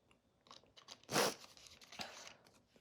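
Real strawberry pieces being bitten and chewed, a single loud crunchy bite near the mic followed by softer, scattered chewing sounds, close and alone without talk.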